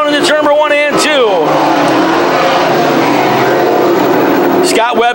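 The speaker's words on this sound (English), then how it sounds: "allowed the number nine of Jordan McCreadie to go racing by on the outside" Modified race cars roar around the oval at Can-Am Speedway, with loud engines rising and passing close under excited race commentary.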